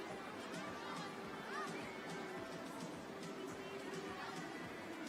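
Spectators at a Berlin para athletics championships in 2018 fill the stadium with a low, even hubbub of distant voices and small movements that carries on without a break.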